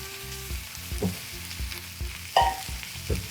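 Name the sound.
onions sautéing and sizzling in a pan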